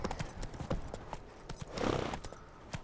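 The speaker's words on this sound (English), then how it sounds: "¿Pero qué le cuesta correr a este caballo?" Galloping horse hooves from The Witcher 3 video game clop in a quick, steady rhythm, close and clear, with a brief rush of movement noise in the middle.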